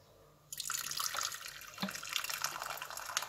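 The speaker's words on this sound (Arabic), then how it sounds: "نحط عليها برضو ميه مغليه" Boiling water pours over eggs being dyed green, a sudden close splashing rush that starts after a quiet moment and runs on steadily, with no voices.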